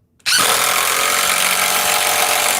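A DeWalt cordless drill starts abruptly and runs at steady high speed, driving a screw all the way in with a loud, continuous whine and no pauses, close up.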